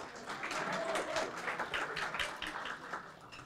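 Audience applause in a banquet hall at a chamber of commerce annual meeting and awards banquet, a dense, steady patter of many hands clapping that holds for about three seconds, then eases off slightly.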